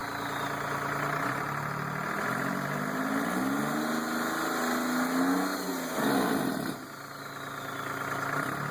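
A turbocharged Detroit Diesel 3-53 engine runs steadily up close, a dense, buzzing mechanical drone with a high-pitched whine and slight shifts in pitch, alone without talk.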